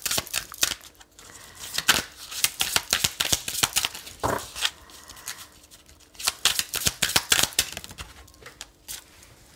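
Tarot cards are shuffled by hand for a three-card draw, making quick riffling flutters and crisp slaps in rapid, uneven bursts, close and soft, with no voices.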